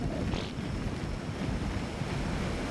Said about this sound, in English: Oh, look at these waterfalls.